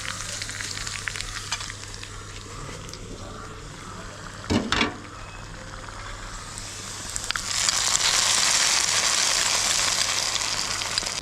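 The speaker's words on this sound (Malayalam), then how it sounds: "ഈ താളിപ്പ് നമ്മുടെ കറിയിലേക്ക് ചേർത്ത് കൊടുക്കാം" Hot tempering of fried shallots is poured into a green plantain curry, a steady frying sizzle and stirring that swells and grows louder and brighter near the end, with a brief clatter midway.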